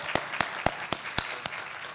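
Slow, evenly spaced single hand claps, about six in two seconds, fairly faint over a quiet room background at a summit gathering, rather than a full crowd ovation.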